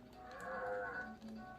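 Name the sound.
cow mooing from cow launcher in South Park PS1 video game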